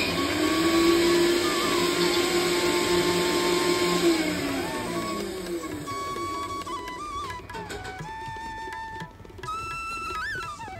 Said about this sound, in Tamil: பல்ஸ் மோடில் தான் நான் வந்து அரைக்கிறேன்.